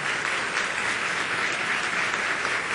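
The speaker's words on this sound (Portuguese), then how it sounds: "eu queria que vocês já acolhessem com uma salva de palmas, governador José Serra" A studio audience at a Canção Nova interview applauds to welcome São Paulo governor José Serra, with thick, even clapping that holds steady and loud from start to finish.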